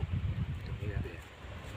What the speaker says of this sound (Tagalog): Mahangin ay.